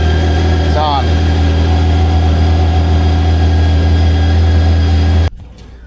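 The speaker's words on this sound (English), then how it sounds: "let me see if I have to start the bike" A motorcycle engine runs at a steady, loud idle with a constant low hum throughout, then cuts off abruptly near the end.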